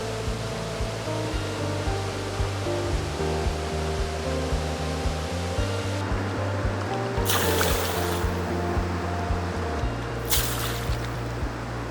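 Waterfall on a river in the High Sierra wilderness, a steady broadband roar of falling water that stays loud and constant, with a couple of brief brighter splashing surges rising over it.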